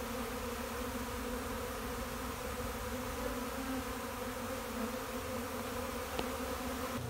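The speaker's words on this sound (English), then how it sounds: "if you can hear that buzz, that's the sound of a swarm" A disturbed honey bee swarm drones steadily in a dense, continuous buzz close by, unchanging in loudness throughout.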